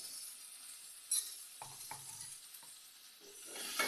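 Garlic and green chillies frying in a pan for buttermilk sambar, a steady close sizzle with a few soft scraping stirs and light utensil taps.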